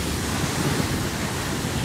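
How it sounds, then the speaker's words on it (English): Strong wind roars across the microphone at the bow of a speeding luxury yacht in the Maldives, rushing water beneath, a dense, steady buffeting noise close up. "it was so windy out here"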